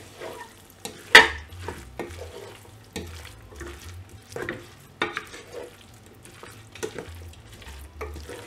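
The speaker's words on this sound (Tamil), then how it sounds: "ஆட் பண்ணிவிட்டு இது எல்லாத்தையும் நல்லா மிக்ஸ் பண்ணி விடுங்க" Potatoes and green peas are stirred in a pot for one-pot mint pulao, with irregular spoon scrapes and clunks over a light sizzle, fairly close and without speech.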